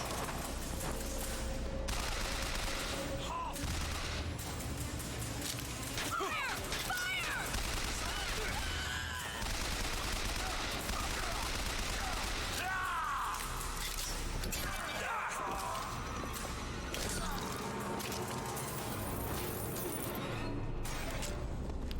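Automated turret gunfire in BioShock Infinite, a dense, continuous clatter of shots with crashing impacts that keeps going with no break, mixed with game sounds and some speech.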